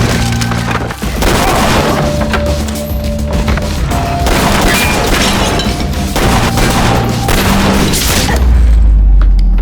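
Shootout scene from a thriller film in which a sheriff is shot: dense, continuous clatter of gunfire and splintering wood impacts under a swelling music score, with a deep boom rising near the end.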